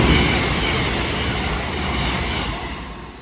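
Class 221 unit 221137 rushes past at Poynton, a loud, dense rail roar with rapid wheel clatter that eases gradually as it goes by, no voices.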